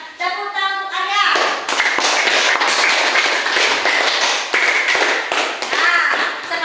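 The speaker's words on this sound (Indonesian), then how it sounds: "Tepuk tangan untuk Arya." A classroom of pupils claps for a classmate, a dense burst of sharp hand claps that starts after a spoken phrase and carries on steadily, close and loud.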